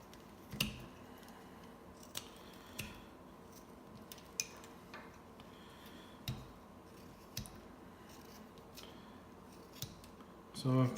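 A knife carves a piece of wood for an Indian-style bolo tie by hand, giving a series of sharp, separate scraping clicks spaced a second or two apart, close up over a quiet room, with a louder rustle at the end.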